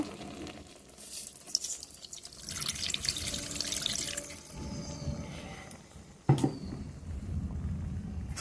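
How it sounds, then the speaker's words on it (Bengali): Mustard water poured into a cooking pan, a running, splashing liquid pour with drips, moderately loud over faint kitchen background, with a sharp clatter near the end. "এবার আমি সর্ষার জলটা এর মধ্যে দিয়ে দেবো এবার পরিমাণ মতো অল্প জল দিয়ে দেব"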